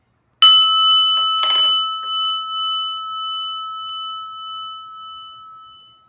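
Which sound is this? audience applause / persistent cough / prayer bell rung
prayer bell rung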